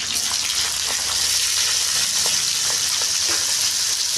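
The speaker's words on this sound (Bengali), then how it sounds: "ভালো করে নেড়ে নেবো।" Chopped onions with a few green chilies fry loudly in a pan, a dense continuous sizzle with the soft scrape of a spatula stirring underneath, close and without talk.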